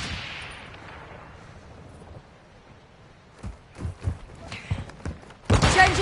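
Gunfire in a first-person shooter deathmatch: scattered heavy shots thump at irregular intervals before a loud, dense burst of rapid fire closes the moment.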